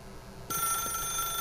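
Telephone ringing in The Stanley Parable video game, a bright electronic ring that starts abruptly partway through and holds steady and clear.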